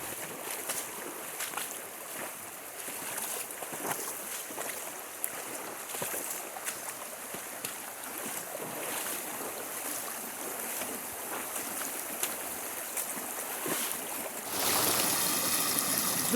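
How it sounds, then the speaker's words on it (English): Creek water rushes steadily through a confined glacial valley at Bushnellsville Creek, a dense, continuous wash of flow up close with no voices, brightening and swelling slightly louder near the end. "This reference reach on the Bushnellsville Creek is characterized by flowing in a confined glacial valley."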